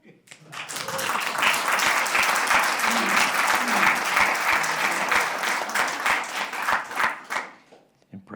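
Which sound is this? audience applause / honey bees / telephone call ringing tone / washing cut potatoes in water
audience applause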